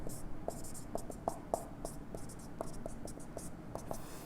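Pen or marker strokes writing a math expression for a partial-fractions integration lesson, a steady series of short scratchy ticks close up, with faint background noise and no talk.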